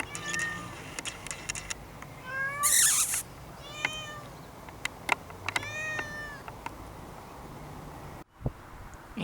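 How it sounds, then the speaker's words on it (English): A cat meows repeatedly in a garage, several drawn-out cries spaced over a quiet background with faint crickets and occasional clatters, nearby and clear. "with the cat friend in the background, so you might hear him or her meowing"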